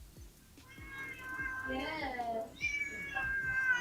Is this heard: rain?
no